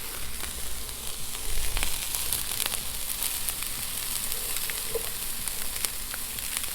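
Store-bought pork chorizo sizzles and crackles steadily on a flat griddle, a close, continuous frying hiss with scattered sharp pops and faint scraping stirs, and no voices over it.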